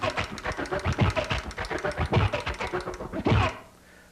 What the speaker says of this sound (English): It's like a record going frontwards and a record going backwards at the same time